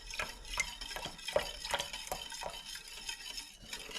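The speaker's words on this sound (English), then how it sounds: "now what we're going to do is slowly whisk in our buttermilk" Buttermilk being whisked in a pot, quiet rapid scraping and tapping strokes of the whisk against the pot, close and steady.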